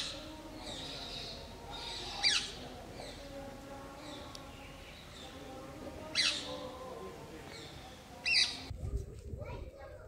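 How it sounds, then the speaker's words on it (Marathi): Parrots perched on the pillars of the mandapa at the Vijaya Vittala temple in Hampi give a few sharp, fairly distant squawks, spaced several seconds apart over faint ambient noise. "तुम्हाला हा जो आवाज ऐकू येतोय हा आवाज आहे पोपटांचा"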